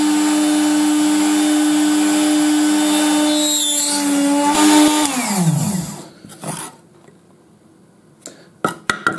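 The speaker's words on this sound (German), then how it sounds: "muss man ja die Löcher bohren, wo die M3-Schrauben reingehen." A Proxxon drill press drilling holes for M3 screws whines loudly and steadily, then spins down with falling pitch, followed by a few sharp clicks and knocks.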